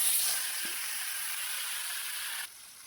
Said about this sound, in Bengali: এখন মাছগুলোকে এখন ভেজে নেব